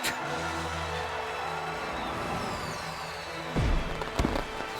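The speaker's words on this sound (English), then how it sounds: "As the fireworks go off" Fireworks in Pokemon Sword celebrate a new champion in the Galar region, a steady crackling wash under game music, with a couple of sharper booming bursts near the end.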